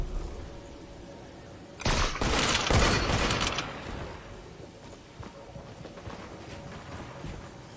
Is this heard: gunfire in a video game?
yes